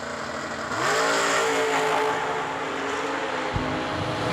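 A Chevy II drag race car at a New Year Nationals drag race roars off the line, its engine note climbing as it accelerates hard and holding a loud, sustained rev against the rumble of the track.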